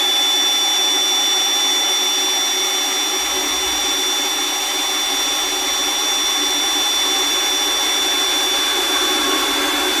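A cordless drill bores a shallow start hole for a larger bit while building a DIY router table, its motor whining steadily and loudly for the whole stretch with no pauses or talk.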